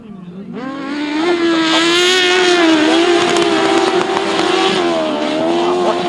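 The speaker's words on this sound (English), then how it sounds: "We get underway with the 1000cc sidecars once again" Powerful 1000cc sidecar racing outfits roar off at a grasstrack race, engines rising from a sharp start into a sustained, loud, wavering howl as the pack accelerates together.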